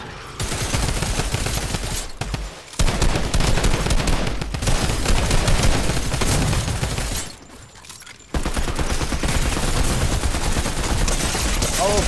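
Guns fire in an underwater survival video game, with dense rapid bursts at full volume. The shooting breaks off twice for a moment, then resumes just as heavily.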